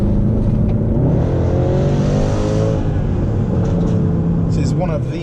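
A 2013 Mercedes C63's V8 engine roars loud and steady from inside the car, pitch climbing and falling with the revs under constant road noise.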